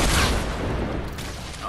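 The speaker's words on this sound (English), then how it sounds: "They're shooting up me." Gunfire in the Fortnite video game bursts out as a loud, dense volley of shots at the start, then a rattling stream of fire continues close by.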